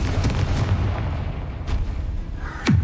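A Confringo spell blast in the Hogwarts Legacy video game, heard as a sharp whooshing burst that ends in a loud low boom, set against a dense rumbling game soundscape with no talk.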